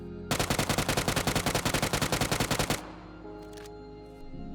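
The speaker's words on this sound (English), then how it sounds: "the unsuppressed UMP45 now has a new sound" An unsuppressed UMP45 submachine gun in PUBG fires one rapid burst of about two seconds, loud and close, then a ringing mechanical tail with a faint click.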